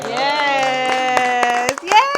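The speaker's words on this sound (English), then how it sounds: "Let's clap it up." A small group at the end of a talk show gives scattered, uneven hand claps while voices talk and call out loudly over them.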